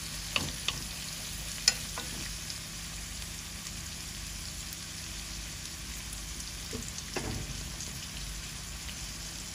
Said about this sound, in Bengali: এই যে আমাদের চিংড়ি মাছ পেঁয়াজ ভাজা ভাজা হয়ে গেছে